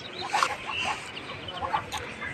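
Seven quails in their enclosure give off a few soft, brief clucking chirps, close by and faint, scattered across a quiet background.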